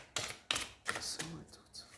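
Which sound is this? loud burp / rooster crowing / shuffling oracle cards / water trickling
shuffling oracle cards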